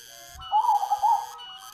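A soft, mellow zebra dove (perkutut) coo, a short warbling phrase of rounded tones rising and falling, heard alone and fairly close.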